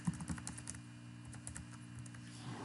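Soft, rapid computer keyboard typing as a document title is entered, a faint stream of light key taps over a low steady hum, with no talking.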